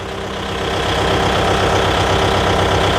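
A Kubota 5502 4WD tractor's diesel engine runs loud and close while the tractor turns in a tight space, giving a steady, throbbing rumble with a rhythmic knocking pulse throughout.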